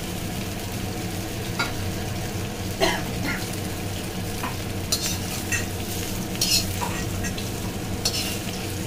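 Bhakosa stirring and frying in a pan for breakfast: a steady close sizzle runs throughout, with scraping stir strokes and clinks of the utensil against the pan at irregular intervals, and no one talking.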